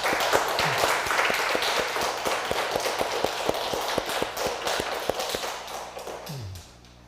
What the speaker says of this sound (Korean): 우리에게 이렇게 풍성한 은혜를 허락해 주신 하나님께 우리가 감사의 영광의 박수를